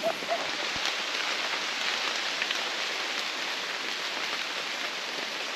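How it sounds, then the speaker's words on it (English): Rain falls steadily in the Amazon rainforest of Cuyabeno, Ecuador, a continuous even hiss of drops on leaves with no breaks, close and moderately loud, with no voices. "And the rain's picking back up now."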